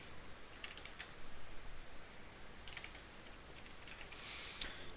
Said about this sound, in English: Oh, I didn't even finish typing that.